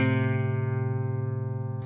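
Clean electric guitar tone from a Neural DSP Archetype amp plugin with a 250 Hz EQ boost for modern metal, a single sustained chord ringing out with a slight wavering shimmer, heard alone.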